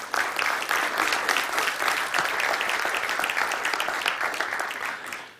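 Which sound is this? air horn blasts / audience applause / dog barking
audience applause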